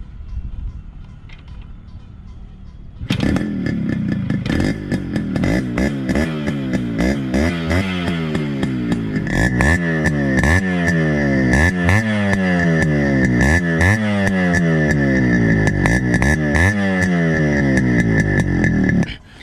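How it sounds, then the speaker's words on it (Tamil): A fully restored Yamaha RX100 two-stroke motorcycle with a 98cc engine kicks into life after a few seconds of quiet background, then settles into a steady, loud, close idle with a rhythmic pulsing beat that runs to the end. "இந்த வண்டி நம்ம ஸ்டார்ட் பண்ணி பார்க்கலாம் இப்போ."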